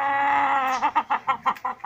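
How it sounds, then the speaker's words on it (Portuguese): Backyard chickens at a home coop make a drawn-out call followed by a quick series of about seven short, rhythmic clucks, close and fairly loud. "As galinhas daqui, ó."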